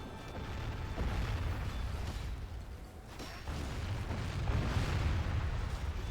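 Catapult siege shots land during a Total War battle, with rolling booms and crashing impacts over continuous battlefield rumble that swells louder in the second half.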